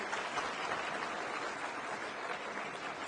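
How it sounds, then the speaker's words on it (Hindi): Applause from an audience at a public event with a government minister on stage, a steady, dense wash of clapping heard alone at moderate distance. "एक बार सभी के लिए जोरदार तालियां।"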